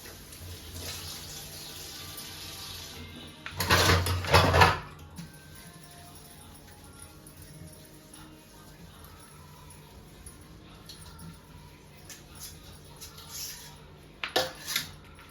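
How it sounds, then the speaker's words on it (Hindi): Dishes being washed in a home kitchen sink under a running tap, with steady water flow, a louder gush partway through, and occasional clinks of utensils and pots. "थोड़े से बर्तन रह रहे थे जो कि मैं क्लीन करके रख देती हूँ"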